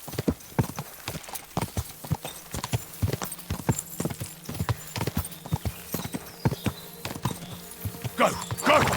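Hooves clip-clop in a brisk, steady rhythm as a horse is ridden in Kingdom Come: Deliverance II, close and clear with faint game ambience behind and some talk over it.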